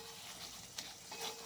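Prawns and bottle gourd being stir-fried in a pan, a soft continuous sizzle with a couple of faint scraping stirs, quiet and close.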